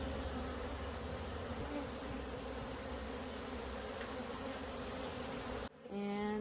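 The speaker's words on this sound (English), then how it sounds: "Bees are in the box, happily clustered around the brood" A dense swarm of honey bees hums continuously and close up during removal from a dune buggy, a steady loud drone with shifting buzzing tones throughout.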